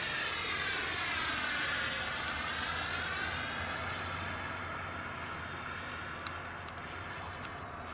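Freewing MiG-21 model jet roars past, its ducted-fan whine sweeping in pitch as it passes close and loud, then fading to a steady distant hum with a couple of brief clicks near the end.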